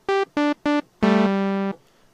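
A Thor synthesizer basic patch plays three short buzzy square-like notes in quick succession, then one longer sustained note that stops cleanly, near and clear with no talk.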